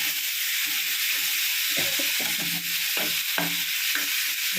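Green chilli and tomato sauté in a pan for bachelor-style tomato rasam, giving a steady close sizzle and hiss with a few scraping stirs of a spoon partway through, and no talking.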